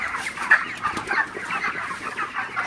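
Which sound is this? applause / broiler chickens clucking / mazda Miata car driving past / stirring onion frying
broiler chickens clucking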